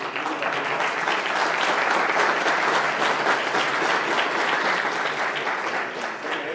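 Sustained, dense audience applause after a talk on advergaming and commercialization, loud and even throughout with no break.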